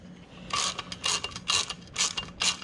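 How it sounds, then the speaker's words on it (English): Valve spring compressor working on a 2009 Hemi 1500 cylinder head, giving five or six sharp ratcheting clicks in a steady rhythm, close and loud with no talk. "Let's see if we get another satisfying popping sound."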